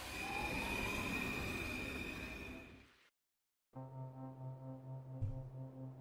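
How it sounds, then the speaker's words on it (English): Train noise rises from a city in the video game Void and Meddler: a loud rumbling, screeching rail wash fades to a brief silence, then a steady tonal hum with pulsing rhythm and a short clank. "Only background noise rising from the city, composed of trains and screams."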